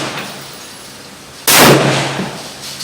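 A Seekins Havak Bravo rifle in 6.5 Creedmoor fires a single loud, sharp shot at a 100-yard range, its blast bursting suddenly after quiet and ringing out over about a second.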